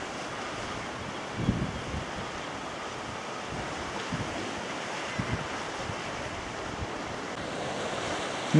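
Sea surf washes steadily against the rocky shore below Bray Head on the Irish coast, a continuous broad rush mixed with gusty wind buffeting the microphone, with a few slightly louder surges.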